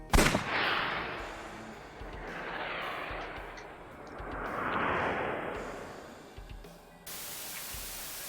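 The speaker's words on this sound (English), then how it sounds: "I'll try shooting it." A single sharp revolver shot cracks out at the very start in AI: The Somnium Files, then gives way to steady, hissing static noise that swells and fades.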